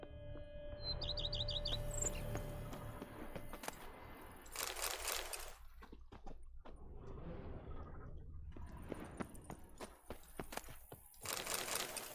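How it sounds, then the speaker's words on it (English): Faint birdsong in the video game Witcher 3 comes as brief chirps and tweets over a quiet ambient bed, with intermittent crunching and rustling nearby. "Birds are chirping."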